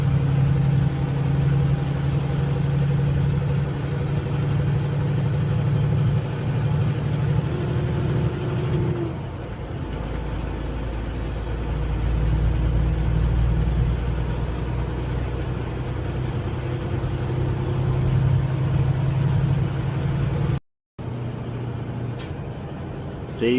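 A Kenworth T680 truck's engine drones steadily while climbing through the Colorado Rockies and losing RPM, a loud, continuous cab-interior rumble with a brief dropout near the end.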